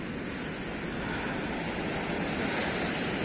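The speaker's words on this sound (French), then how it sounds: "Et là, on entend bien sûr le bruit de. Le bruit de la mer." Sea waves rolling onto a sandy beach at Valras, a steady loud wash of surf with wind noise, continuous and close with no distinct breaks.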